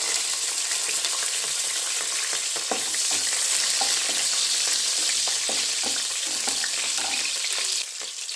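Bay leaf and green chilli sizzling in hot oil, a loud continuous crackle with clicks of stirring, close and steady, quieting slightly near the end, no voices.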